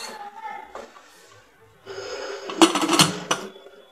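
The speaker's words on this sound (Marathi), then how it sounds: "आता आपण त्याचं झाकण लावू।" Lid clanks onto a pressure cooker holding simmering potato gravy, a couple of metallic knocks and scrapes close by, loud and brief, after some quieter kitchen noise.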